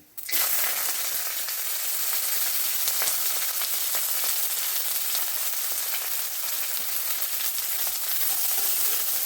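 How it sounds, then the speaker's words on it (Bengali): Chopped onion frying in oil with cumin seeds and cloves, a dense hissing sizzle that starts abruptly and holds steady at close range, with small crackles scattered through it and no speech. "সুন্দর করে এবার পেঁয়াজটাকে ভেজে নেব"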